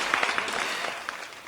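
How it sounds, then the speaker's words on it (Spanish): Short burst of applause opening a podcast, a dense, even patter of clapping hands that stays steady and fairly loud for about a second and a half. "Aplausos, por favor."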